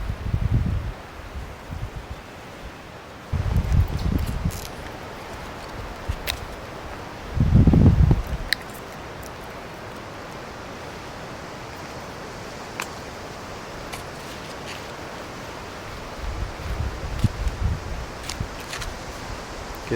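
Gusty wind moves through leaves at a lakeside Boundary Waters campsite, rising in several soft rushing swells between quieter stretches, with some microphone buffeting.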